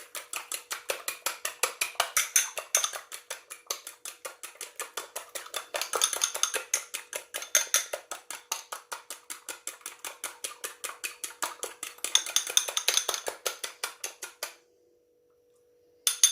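A spoonful of milk whisked into egg for a glaze, a fast, steady rhythmic tapping of utensil against bowl repeating without pause for about fourteen seconds before stopping, close and clear with no talk.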